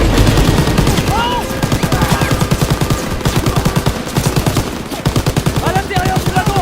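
Rapid, rhythmic automatic gunfire in Call of Duty WW2, loud and close, bursts repeating steadily with brief pauses and shouted voices on top.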